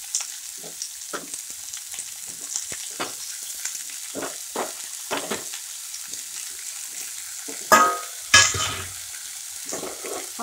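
Chopped banana flower, washed and squeezed, is dropped into an onion tempering and fries with a light crackling sizzle, broken by stirring scrapes and a couple of louder pan clatters near the end, close and without talk.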